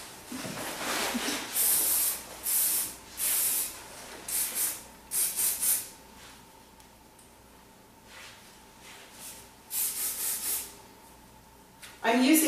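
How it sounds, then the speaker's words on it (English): Aerosol hairspray sprayed onto curly hair during a layered haircut, heard as repeated close hissing bursts of one to two seconds each with short pauses between them, and a salon voice faintly present. "She just sprays it really good with hairspray."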